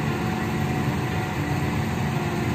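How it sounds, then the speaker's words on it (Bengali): A passenger train runs along the line between stations in Bangladesh, giving a steady, loud rumble that holds evenly throughout with no voices. "আমার ট্রেন লাইন ধরে ছুটে যাচ্ছে স্টেশনের পর স্টেশন পেরিয়ে"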